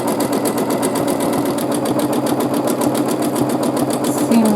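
A sewing machine running steadily during free-motion quilting of echo lines, a loud, close, fast rhythmic needle pulse with a continuous motor whir and no pauses.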